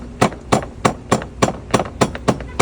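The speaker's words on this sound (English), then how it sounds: "So we're just using a little screwdriver and a rubber mallet to kind of force it out." A rubber mallet strikes a small screwdriver to drive out a stuck shock bolt while fitting Elka shocks, eight sharp, evenly spaced taps at a steady rhythm, close and clear.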